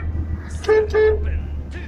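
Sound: car horn honking

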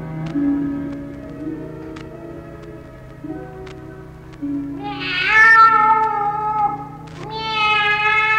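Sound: cat meowing

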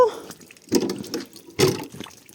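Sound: water being poured out

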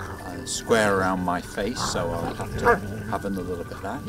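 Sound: dogs barking and whimpering

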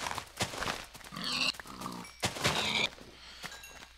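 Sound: pigs oinking in Minecraft video game

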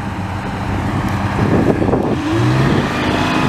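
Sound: vintage Sicard snowblower with loud Detroit Diesel engine driving by

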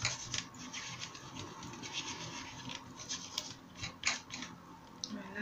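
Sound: rubbing to clean a rubber craft stamp

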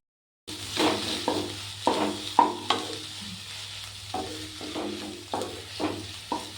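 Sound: thummi leaves frying in oil

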